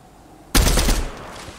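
A single loud gunshot in Fortnite cracks after half a second of quiet, then rings off in a fading tail.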